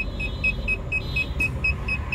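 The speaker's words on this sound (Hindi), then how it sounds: "भाई मैं गाड़ी बैक ले रहा हूँ" A car reversing at night in Noida, its reverse-warning beeper pulsing in a regular high-pitched rhythm over a low idling engine hum.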